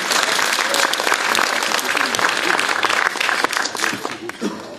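Sustained, dense applause from a theatre audience at a children's stage show, loud and steady throughout with a brief dip near the end.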